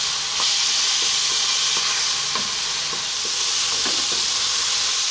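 Tomatoes cooking down in a pan for Ethiopian eggs give a steady, dense sizzle, with occasional soft clicks of stirring scattered through, close by and with no voices.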